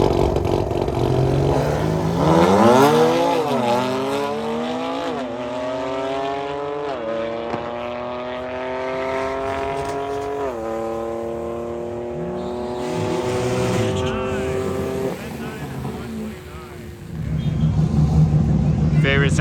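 A BMW M3 drag car with a downpipe and flex tune roars down the strip, its engine climbing through several rising gear pulls with brief dips at each shift, loud and sustained under crowd noise and talk.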